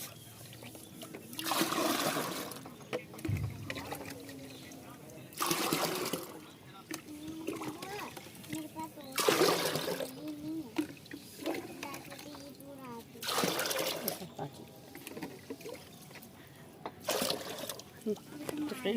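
Water is poured into a mix of mustard oil cake and vermicompost fertilizer in several separate splashing bursts, with a person talking between and over the pours.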